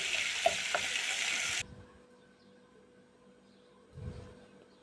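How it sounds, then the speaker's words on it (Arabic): Minced garlic frying in a little oil in a small pot, a close bright sizzle with a few pops for about a second and a half, then it cuts off into near quiet with a soft clatter at the end. "جبت حلة صغيرة وحطيت فيها فصين ثوم أو 3 فصوص مفرومين أو مدقوقين وحبة زيت صغيرين ونحمرها"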